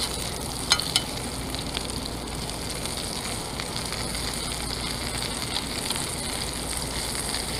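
Chicken cutlet fingers frying in a pan while cooking in an RV, a steady close crackling sizzle that runs unbroken, with a couple of brief clicks early on and no talking.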